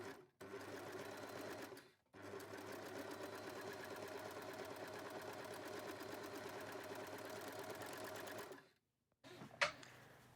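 Sewing machine zigzagging or overlocking the seam allowances of a shorts or trouser seam near the fly, fast steady stitching in two long bursts with short pauses, a brief clack at the end.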